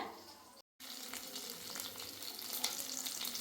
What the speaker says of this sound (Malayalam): ഈ ചില്ലി ഒന്ന് മറിച്ചിട്ട് കൊടുക്കട്ടെ